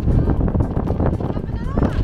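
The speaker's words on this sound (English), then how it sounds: "And it's quite windy" Gusty wind buffets the microphone with a low rumbling roar that rises and falls, nearby and fairly loud, with no clear speech, on a golf course tee on South Africa's west coast.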